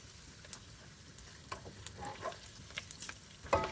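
Chicken skin coated in flour fries chicharon-style in hot oil, a steady soft crackle with scattered sharper pops and a louder clatter near the end, no voices.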